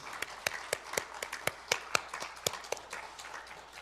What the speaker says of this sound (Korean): 우리 모두를 위해서 다시 한번 힘찬 박수로 격려하겠습니다